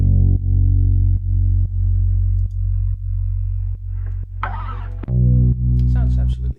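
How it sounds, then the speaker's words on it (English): A Rickenbacker-style bass part layered with a guitar sound and sidechained to a kick, with heavy sustained low notes pulsing in a regular rhythm and a brief scratchy burst of string noise near the end. "The fun thing about the bass is I added a guitar sound on top"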